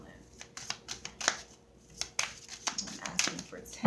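Crisp, rapid riffling of playing cards repeats in bursts, each shuffle a sharp papery flutter, close by with short pauses between.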